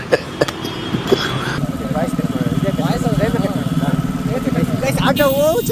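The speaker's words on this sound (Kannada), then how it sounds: "ಸೌಂಡು ಪಟ್ ಪಟ್ ಪಟ್ ಪಟ್ ಪಟ್ ಪಟ್ ಅನ್ನೋದಿದೆ ಗಾಡಿ" A motorcycle engine idles nearby with a steady, rapid putt-putt throb running under someone talking throughout.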